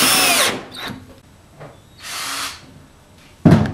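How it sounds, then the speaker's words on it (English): A power drill whirs in short bursts driving screws into a wooden table, three or four quick spins with pauses between, close and fairly loud with no talking. "Take your power drill and the screws"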